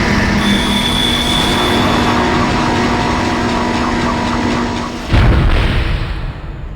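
A tram in the Dead Space video game pulls in with a loud, steady rumble of machinery and a high whine, then lands with a heavy boom as it stops, followed by a fading hum.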